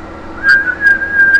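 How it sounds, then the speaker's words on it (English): A person whistles a steady, sustained tone in a few short pulses during a voice examination for vocal fold paresis, close and fairly loud over quiet background. "try a little whistle"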